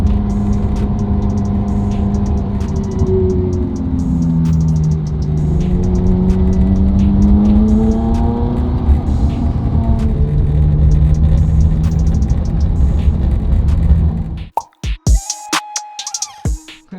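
A Ferrari Pista's engine drones steadily and loud, its pitch rising and falling through gear changes as the car drives, then cutting off abruptly near the end.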